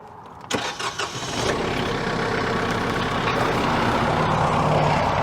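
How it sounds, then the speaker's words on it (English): A tractor engine cranks with a few chugging bursts, then catches and settles into a loud, steady rumbling idle. "we're going to start the tractor and begin to circulate this"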